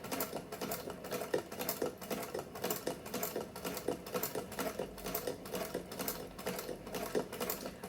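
A hand-crank sewing machine runs at a steady pace, its needle producing a rapid, even clatter of mechanical ticks that continues throughout at close range.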